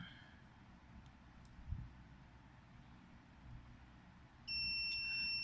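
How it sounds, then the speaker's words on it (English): An Arduino-built kitchen smoke alarm buzzer sounds near the end as a steady, piercing electronic tone after a stretch of quiet room hum and a soft bump. "the buzzer and the warning LED will light up."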